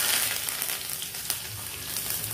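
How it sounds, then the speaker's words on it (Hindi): Asafoetida and mustard seeds crackle and sizzle in hot oil, a continuous frying hiss with small scattered pops, fairly close and steady, no voices. "जब ये अच्छी तरीके से ये दोनों चीजें क्रैकल हो जाएंगी"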